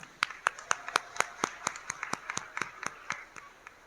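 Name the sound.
audience clapping to encourage children after a school skit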